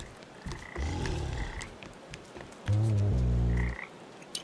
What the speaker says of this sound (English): Are there just gonna be like a bunch of frogs in there?